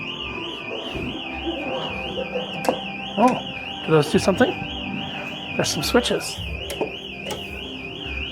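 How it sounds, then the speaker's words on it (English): An emergency exit door alarm sounds with a continuous warbling, wavering electronic tone at the Meow Wolf art installation in Santa Fe, running under people talking and some clunks. "That alarm going off is someone pressing the actual emergency exit door again."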